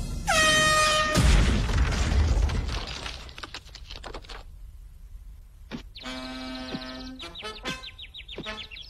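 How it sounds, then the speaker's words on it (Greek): A sports fan's air horn opens with a loud, shrill, steady blast, then cuts to a rattling clatter of knocks, followed by further short bright horn toots and a wavering horn tone. "την πιστή σύντροφο κάθε φύλαθλου, την κόρνα."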